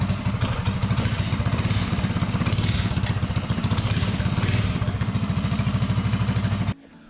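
A mini bike engine running without a head gasket chugs close and loud in a fast, even putter, then cuts out abruptly near the end.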